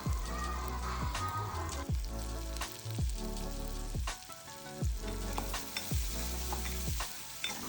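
Cashews fry in a hot pan while cooking paneer butter masala, giving a bright, steady sizzle broken by repeated stirring scrapes and spatters, close up and with no talking.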